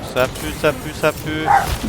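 Three short dog barks sound in the Warhammer 40,000: Space Marine 2 video game, evenly spaced over game noise, followed by a higher whining yelp.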